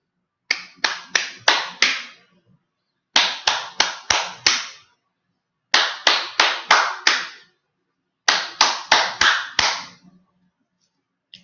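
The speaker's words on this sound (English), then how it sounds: "So count which clap am I holding longer." A teacher claps a repeating pattern in four separated groups of five sharp, close hand claps, each group ending on a longer ringing clap, with short silences between the groups.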